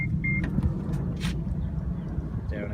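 A 2018 Subaru Forester power tailgate closes slowly, giving a steady motor whine over a low rumble, with a short beep at the start and a soft latch sound at the end.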